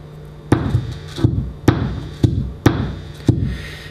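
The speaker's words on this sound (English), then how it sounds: "I've just got a little steel screwdriver. I'm going to tap the pole pieces." A small steel screwdriver tapping the pole pieces of a guitar humbucker pickup, heard through an amplifier: six sharp amplified clicks at roughly even intervals, each with a brief ringing decay over a steady low hum.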